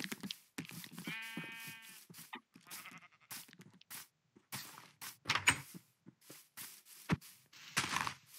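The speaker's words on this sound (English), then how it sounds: "I might as well just feed my sheep." A blocky sheep in the game Minecraft gives one short bleat among quiet clicks, thumps and door-like knocks of gameplay, with no talking over it.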